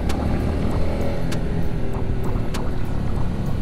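A 2021 Honda CB150R motorcycle engine slowing in third gear without the clutch pulled, heard as a loud, steady rumble of engine and wind noise from riding, with a few brief higher tones.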